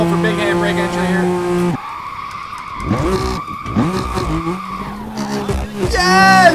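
Car tires skid and squeal through a big handbrake entry in the video game Midnight Club, a long screeching slide over the engine drone with game voices and sound effects around it.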